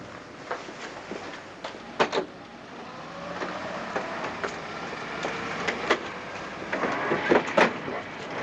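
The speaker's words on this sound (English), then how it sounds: "Rather a nuisance. Traveling by train." A passenger train rumbles along the rails, a steady rolling drone broken by sharp clanks and knocks of the carriages at irregular moments.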